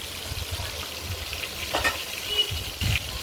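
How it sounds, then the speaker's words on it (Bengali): Pabda fish fry in hot oil with a soft, continuous sizzle and a few bursts of spattering, close by and with no talking. "মাছটা ভাজা হোক।"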